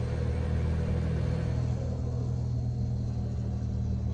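A PACCAR truck engine in Euro Truck Simulator 2 drones with a steady, low, constant rumble, close and unbroken, holding an even pitch throughout with no voices over it.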